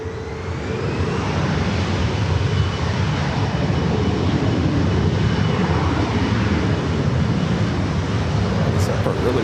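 A Boeing 777-300ER airliner at LAX airport produces a loud, steady engine roar rich in low rumble, close and continuous across the whole stretch, with no clear speech.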